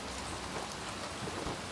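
Steady rain falls in the video game Little Nightmares 2, a dense, even hiss that carries alone without talk for a brief stretch.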